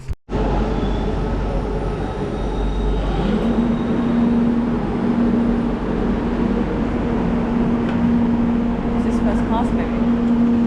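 A moving train rumbles steadily, with a motor hum rising in partway through. Faint voices murmur beneath the noise.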